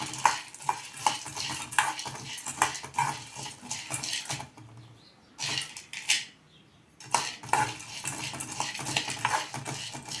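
Peanuts being stirred and roasted in a pan, a metal spoon scraping and clinking in uneven rhythmic strokes close by, with a short pause partway before the stirring resumes.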